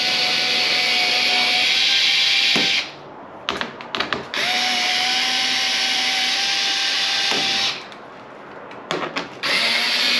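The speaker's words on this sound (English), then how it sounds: "We're just going to take all these screws out" Power tool backing screws out during a CTS-V conversion kit install on a Cadillac CTS-V Sport, a loud sustained whirring run, brief clicks and handling noises in a pause, then another long whirr and more clicks.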